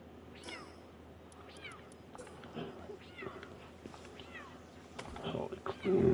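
An elephant-like creature in the video game Palworld calls with several short, cat-like yowls and squeals in quick succession over game ambience and footsteps.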